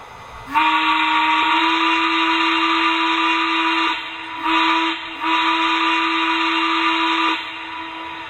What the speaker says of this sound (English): Okay, here's the whistle.